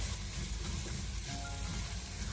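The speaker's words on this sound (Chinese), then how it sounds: "我们将鸡蛋给它煎至八面金黄焦香以后" Beaten eggs fry in a wok for a Chinese stir-fry with garlic chives, giving a soft, even sizzle and crackle heard up close throughout the brief moment.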